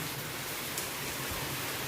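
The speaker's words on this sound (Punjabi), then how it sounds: "ਉਹ ਦੇਖ ਮੀਂਹ ਕਿੰਨਾ ਪੈਂਦੇ ਆ" Heavy rain pours down in a dense, unbroken hiss, loud and close, with no voices.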